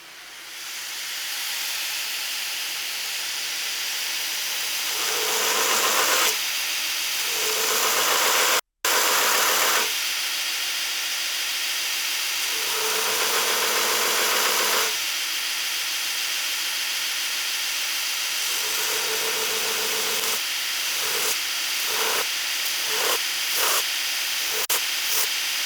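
Belt grinder rough grinding a Damascus hunter knife blade with an integral guard, a loud steady abrasive hiss broken by short pauses and a brief dropout, then quick repeated passes toward the end.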